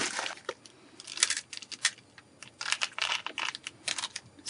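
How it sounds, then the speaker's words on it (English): Coarse rock salt is sprinkled thickly over the surface of wet card, making faint, close, irregular crackly ticks and patters in quick scattered bursts, with no talking. "I'm just grabbing some of the rock salt here and sprinkling this quite thickly over the surface of the card."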